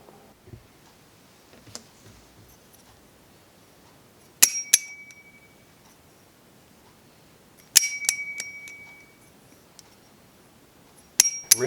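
Hazetac Channel balisong butterfly knife flipped in three separate bursts, each a bright metallic clink that rings on like a small chime before decaying, with quiet gaps between.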